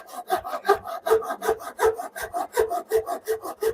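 A two-sided Ryoba pull saw cutting a curved wooden bunk rail by hand in quick, even rasping strokes, about fifteen in a steady rhythm, close and clear with no talking.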